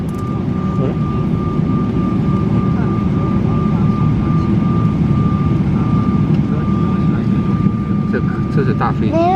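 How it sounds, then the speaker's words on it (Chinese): A large passenger airplane taxis at Seoul airport after landing, its engines giving a steady, loud, continuous rumble and whine heard from inside the cabin. "这是大飞机。"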